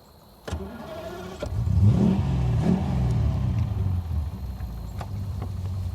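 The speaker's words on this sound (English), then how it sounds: "That is a beautiful engine sound." A 1963 Daimler SP250 Dart V8 engine cranks and catches, then settles into a deep, steady rumbling idle with a slight rev, close and loud.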